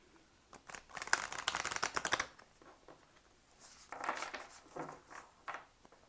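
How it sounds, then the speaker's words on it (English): Tarot cards shuffled by hand in a quiet room, with a long dense burst of riffling followed by softer, intermittent shuffles and taps, close and moderately loud, no talking. "So I'm just going to shuffle the cards a few times"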